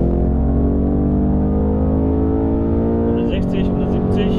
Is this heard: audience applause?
no